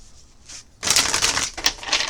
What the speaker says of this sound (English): I'm going to shuffle 4 times